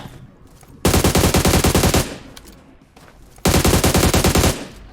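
Two loud bursts of rapid automatic gunfire from the mobile battle-royale game PUBG Mobile, each about a second long, separated by a short quiet gap.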